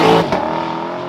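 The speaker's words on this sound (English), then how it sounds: "It barks lower down in the rev range, it screams near the red line, and when there's no roof, you can hear it even better." Lexus LC500 Convertible with its V8 engine revving hard, a loud, close, rising roar that peaks early, then settles into a sustained high-rpm drone with no talking.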